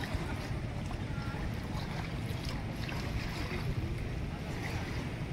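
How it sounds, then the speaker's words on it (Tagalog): Steady low rumble of a large boat's motor heading out to sea, with wind and wave wash, constant and moderately distant throughout. "Malaking bangka ay palabas"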